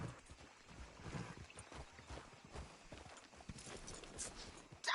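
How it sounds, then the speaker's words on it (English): Horse hooves clip-clopping in Red Dead Redemption 2, a faint, uneven run of hoof thuds over soft game ambience, with a brief louder burst at the very end. "Damn horse acting up on me."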